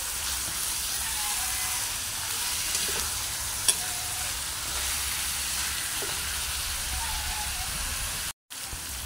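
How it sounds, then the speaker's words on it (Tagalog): Chicken pieces sauté steadily in hot oil for chicken tinola, a continuous close sizzle with occasional light clicks and a brief dropout near the end. "hintayin lang natin mag-brown yung ating chicken bago tayo mag-proceed sa ating next step"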